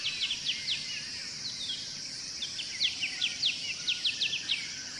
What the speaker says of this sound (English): there we have this recording of the Dawn Chorus